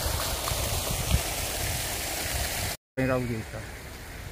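Seawater pours in a steady, rushing stream into an outdoor foot bath at Yeongjongdo, loud and close, cutting off briefly before someone speaks over a softer flow.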